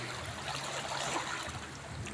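Flowing water beside a highway on a long drive to Infanta, Quezon, heard as a steady broadband rush with no speech.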